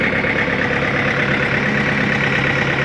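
A John Deere 110 TLB diesel tractor loader backhoe idles steadily up close, a continuous even engine drone with no variation or voices over it.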